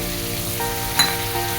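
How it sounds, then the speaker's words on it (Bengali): Masala cooking in a pan just after water from rinsing a bowl is added, giving a moderate steady sizzle with one brief spattering burst midway, without voices. "একটু যে বাটি ধোয়া জলটা এই দিয়ে দিলাম"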